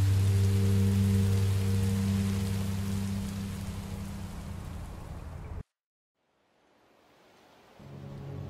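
Rain falls steadily in the Minecraft: Story Mode video game as a dense, even hiss with a low hum beneath. It cuts out abruptly partway through, leaving near silence, then returns faintly at the end.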